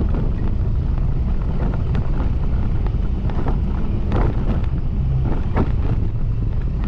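Motorcycle riding up a rough rural road toward a hillside village, a steady buzzing engine with rattling and wind buffeting the microphone, continuous and close.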